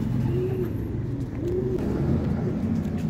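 Pigeon-like cooing from a bird being caught outdoors, soft repeated coos over a steady low rumble of traffic.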